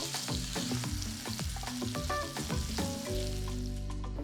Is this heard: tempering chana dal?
yes